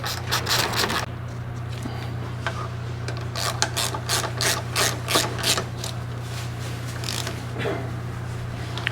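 Brake rotor bolts on a TC Bros. Pan America being tightened with a 5/16 Allen wrench: a run of quick metallic clicks and rubbing scrapes in close, regular bursts over a low steady hum.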